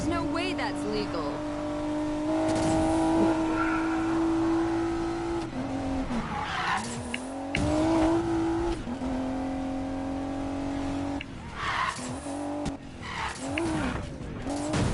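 Tires screeching as a car skids under handbrake in Need for Speed Payback, with a revving engine and repeated squealing slides during a police pursuit, heavy and continuous, game sounds layered together.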